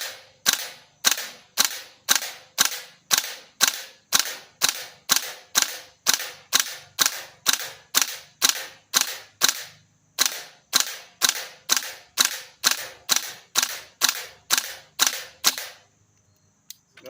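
A VFC gas-system airsoft gun fires one round after another from a single magazine. The sharp, evenly spaced pops come up close in a long, steady string, with a brief break partway through before the firing resumes.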